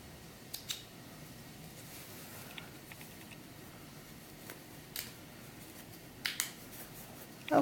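Small scissors snip loose threads on a handmade historical doll ball gown, a few quick, faint clicks spaced apart against a quiet room background.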